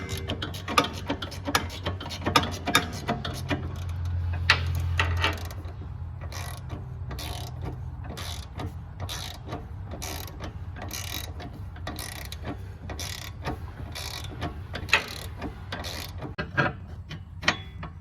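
A ratchet wrench tightening a rear sway bar link on a Ford Escape gives off runs of quick, sharp clicking close by, with brief pauses between strokes amid faint mechanical clatter.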